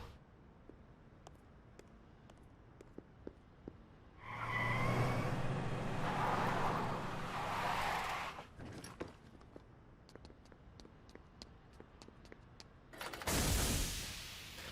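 A vehicle in Xenoblade Chronicles X roars into a loud, rising rev for about four seconds after a quiet stretch of faint clicks, fades back down, then gives one more short, loud burst near the end.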